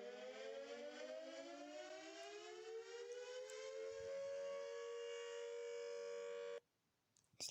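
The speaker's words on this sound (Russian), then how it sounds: "Если я не ошибаюсь, то это тоже ручная сирена." A hand-cranked siren wails loudly, its rising tone climbing and holding for about six seconds before cutting off abruptly into near silence.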